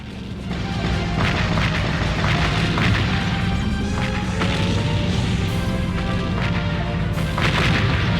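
Booming artillery fire from the video game Seek & Destroy, a dense, continuous barrage of loud blasts and rumbling impacts with several sharper bursts standing out, with no talking.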